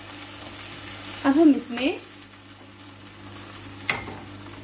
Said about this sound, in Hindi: चिकन को इसमें थोड़ा सा भून लेंगे। चिकन तो थोड़ा फ्राई हो गया है,